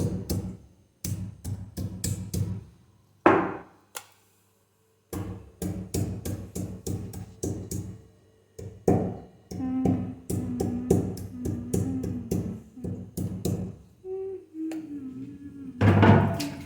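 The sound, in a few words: pounding ginger pieces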